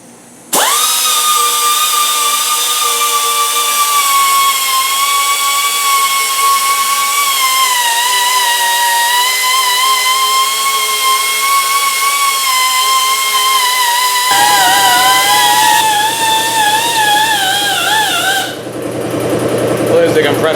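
An air-powered abrasive pad tool grinding metal on an engine part for a 1973 C10 350 build, a loud steady high whine that drops in pitch near the end, then cuts off.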